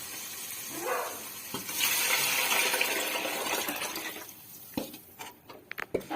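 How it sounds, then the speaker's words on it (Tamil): Dissolved tamarind water is poured into a village-style kola fish curry, giving a sustained splashing pour through the middle of the clip that tapers off, followed by a few sharp clinks near the end. "நம்ம அந்த புளியை கரைச்சி வச்சிருந்தோம்ல அதை வந்து பார்த்தீங்கன்னா இப்போ ஊற்றிக்கலாம்"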